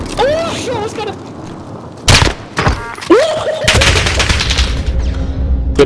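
Bursts of gunfire in Call of Duty: Modern Warfare, with sharp loud volleys cutting in amid game effects, while players talk and shout excitedly over the action.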